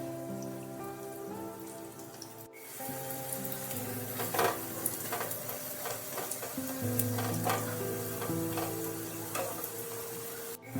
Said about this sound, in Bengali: ভালোভাবে দুটো পিঠ ভাজা হয়ে গেলে আস্তে করে তুলে নিও